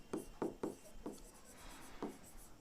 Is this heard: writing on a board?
yes